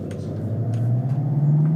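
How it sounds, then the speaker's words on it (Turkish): A car pulls away with a steady low engine rumble and a slowly rising tone, loud and close, with no talk over it. "Lan araba gidiyor."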